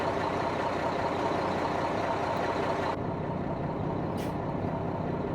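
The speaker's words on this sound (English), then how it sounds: "Sounds like the governor just cut off." A Mack truck engine in American Truck Simulator idles loudly, then a sharp hiss as the air governor cuts off and the sound drops, followed by a brief puff of air.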